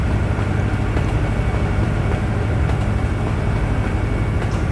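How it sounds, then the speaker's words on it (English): Loud train passing in the American Truck Simulator video game, a continuous heavy low roar that stays steady and close for the whole stretch, with no talking. "Yeah, that's a train."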